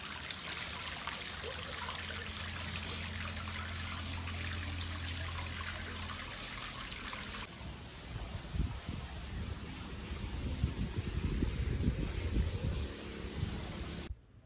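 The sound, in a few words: water flowing continuously from a Shiva lingam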